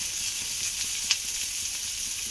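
Chopped onion, dry red chillies and salt frying in a pan for a chutney, a soft steady sizzle with a light stirring scrape and one sharp crackle near the middle, no voices.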